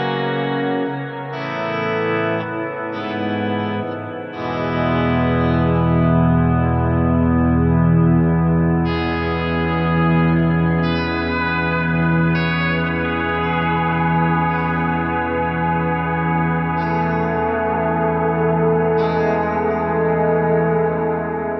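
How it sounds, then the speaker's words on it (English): A Cusack Resound V2 reverb pedal with its extend footswitch engaged turns guitar chords into frozen, layered reverb, sustained washes stacking into a dense, continuous ambient drone with fresh notes blooming on top. "It just gives you that beautiful kind of frozen and reverb upon reverb sound."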